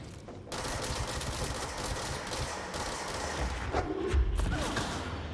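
Gunfire from a weapon in the game Control: dense, rapid bursts of shots over a loud, sustained rumble, with heavier thumps toward the end.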